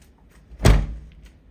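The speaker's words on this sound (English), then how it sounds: "I need to close the door real quick." Room door being shut, a single loud, close thud with a short low rumble after, alone in a quiet room.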